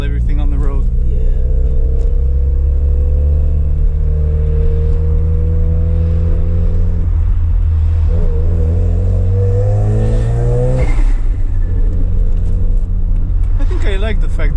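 Turbocharged Mazda RX-7 revving on a road drive, its engine droning steadily with rising and falling pitch and a blow-off valve hiss near the end, heard from inside the car with people talking over it.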